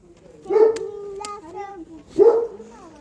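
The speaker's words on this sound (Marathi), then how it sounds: "हां बघा इथे कुत्रा आतमध्ये. बाजूच्या बंगलोमध्ये कुत्रा." A dog in a neighbouring bungalow barks or yelps in two short, harmonic bursts a couple of seconds apart, heard at moderate distance against quiet rural surroundings.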